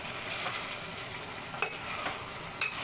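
Ground chilli chutney is sautéed in a pan with cumin and curry leaves for a fasting-style misal, giving a faint, steady low sizzle with soft stirring scrapes and a couple of brief clinks.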